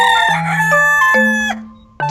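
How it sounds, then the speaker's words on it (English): A rooster crows a single full cock-a-doodle-doo, loud and close, with a strained rising middle and a falling end, heard alone on a farm. "Chicken."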